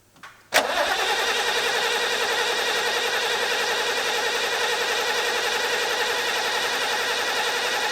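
A diesel engine of an expedition all-wheel-drive truck cranks briefly and catches after a short quiet moment, then settles into a steady, loud, even running drone that continues to the end without voices.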